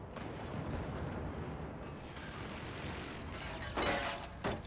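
An artillery barrage fires in the video game Forts, producing a dense rumbling roll of overlapping booms and blasts with a couple of sharper bursts near the end.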